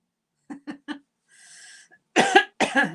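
Three short, sharp coughs close by, then a brief breathy pause and two louder, harsher coughing bursts.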